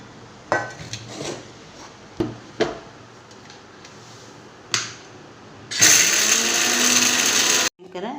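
A few clattering knocks and clinks, then an electric mixer grinder whirs loudly grinding cinnamon and cloves for masala for about two seconds before stopping abruptly.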